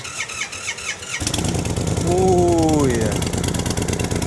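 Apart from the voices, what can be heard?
motorcycle engine with 2-into-1 exhaust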